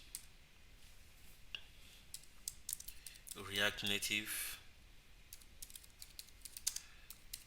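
Light keyboard typing with scattered clicks, with a short burst of speech in the middle.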